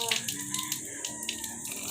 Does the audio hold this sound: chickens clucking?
no